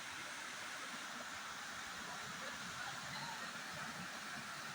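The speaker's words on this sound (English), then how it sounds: "See the waterfall and water sound." Steady broadband rush of water at the Jalatrangini Waterfalls in Maredumilli, a continuous even roar with no breaks, heard alone without voices.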